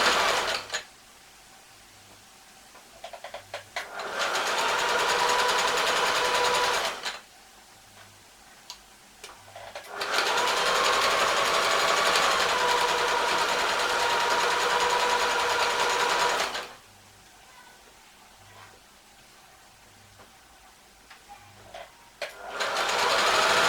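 A sewing machine stitches a strip-pieced crib cover in three long, loud runs of rapid whirring, each several seconds long, with quiet pauses between them.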